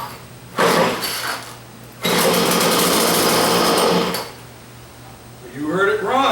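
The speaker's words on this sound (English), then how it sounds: "saber saw or a jigsaw, whatever you want to call it. It's not a saber saw, it's a jigsaw." A repaired old jigsaw pulled from a dump buzzes loudly and close in two bursts, a short one and then a longer steady run of about two seconds, with a voice talking briefly near the end.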